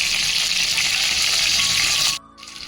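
Eggplants frying loudly in an oiled pan with a dense, steady sizzle and hiss, cut off abruptly near the end to a quieter background.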